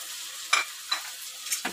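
Ginger garlic paste and a full mix of spices frying in hot oil, with a soft continuous sizzle and three or four short scraping stirs of a spoon in the pan, heard close up without talk.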